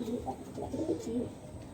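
Domestic pigeons coo in a low, throaty, rolling series of soft calls, close by and fairly clear over a little background noise.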